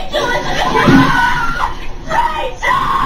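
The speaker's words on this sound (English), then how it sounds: "Watch how the girl screams at the end." A girl screams in a movie clip, a loud, strained cry rising near the middle, mixed with voices and some chuckling.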